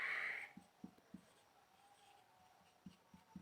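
Writing on a board during a maths lesson, faint taps and strokes scattered across the clip after a short high tone at the start.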